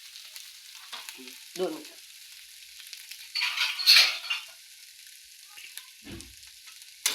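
Egg bhurji fries with a steady quiet sizzle in a pan, and a spatula stirs and scrapes it in a few brief strokes, louder near the middle; a short spoken phrase comes early on.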